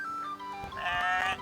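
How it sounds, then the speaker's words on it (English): A sheep bleats twice in a short, wavering call, the second cry louder and higher, heard fairly close in a quiet outdoor setting. "Got a little talking sheep over there."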